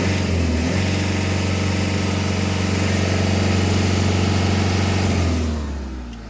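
A Fiat Ducato Maxi school bus engine idles with a steady, low rumble evenly throughout, close and loud, fading slightly at the very end.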